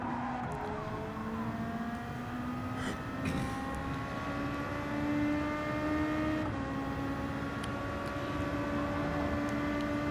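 A Gr. 2 race car in Gran Turismo 7 at St. Croix drones steadily with rising engine pitch as it heads into the pit lane, a continuous loud engine tone with a gear change midway.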